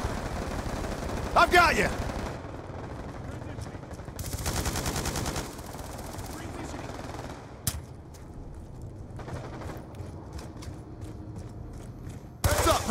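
Rapid bursts of automatic gunfire and single shots in a Call of Duty: Black Ops 2 multiplayer match, with loud clusters separated by quieter stretches and a voice shouting briefly.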